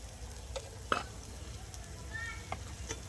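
A spatula stirs mashed flat bean paste in a wok, making soft, quiet scrapes and a few brief knocks against the pan over a low, steady hiss.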